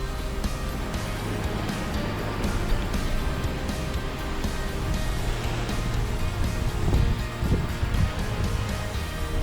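Open ocean water rushing past a Holland America cruise ship at sea, a steady broad wash of waves with wind buffeting the microphone, continuous and fairly loud.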